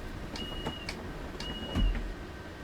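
Electric doors on a BR 425 regional train in Train Sim World 2 close, with two short rising whines each ending in a soft clunk, and a low thud after the second, over faint cab hum.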